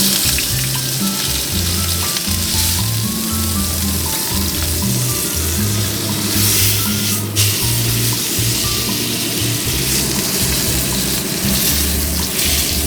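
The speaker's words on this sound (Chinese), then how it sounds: "然后我们锅子温度够高之后啊，我们把菲力下去煎" Beef fillet seared in a very hot oiled pan, a loud, dense, continuous sizzle and crackle that holds steady throughout without talk.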